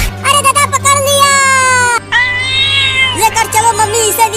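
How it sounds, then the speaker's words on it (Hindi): Cat meowing in a comedy sketch, two long drawn-out loud meows close by, followed by a voice speaking. "चल नीचे उतर बिल्ली।"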